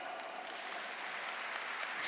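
Church congregation applauding, a fairly faint, even patter of many hands clapping that continues throughout and builds slightly at the end.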